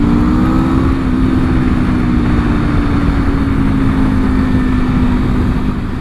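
A 2026 Aprilia RSV4 motorcycle with its complete engine replaced, running at a steady loud drone while riding, with a constant engine tone over heavy rushing wind noise.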